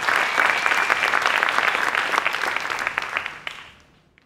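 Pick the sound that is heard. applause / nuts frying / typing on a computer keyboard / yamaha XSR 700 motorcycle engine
applause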